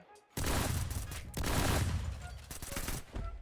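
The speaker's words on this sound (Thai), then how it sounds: "เดี๋ยวลองซองนี้ ลูกซองกระบอกใหม่" Shotgun blasts from a new pump gun in the Phantom Blaze Mobile FPS. Several loud, broad bursts arrive one after another, each decaying briefly before the next, with no talk over them.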